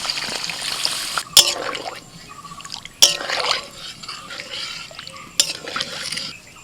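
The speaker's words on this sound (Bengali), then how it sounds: "এবারে নারকেলের দুধ দিয়ে দিচ্ছি" Coconut milk poured into a pan of prawns that have been cooked down with spices, a soft liquid trickle and sizzle punctuated by three sharp clinks of a utensil against the pan.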